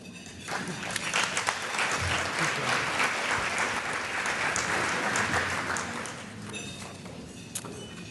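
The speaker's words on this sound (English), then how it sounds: "Let's give them one more round of applause for their efforts." A luncheon crowd at a chamber of commerce event gives a sustained round of applause for an organizing committee, dense and loud throughout and tapering near the end.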